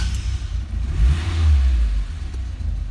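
A 1987 Bertone X1/9 engine catches and settles into a low, rumbling idle with a brief swell of revs, close and fairly loud, no talking.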